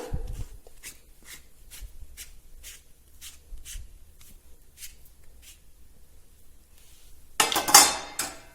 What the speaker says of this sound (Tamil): மூடி போட்டு இப்போ இதை மூடிடலாம்